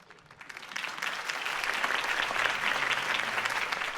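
A crowd applauds after Harvey Dent's campaign speech in Batman: The Telltale Series, the clapping swelling from quiet to a steady, full roar that holds to the end.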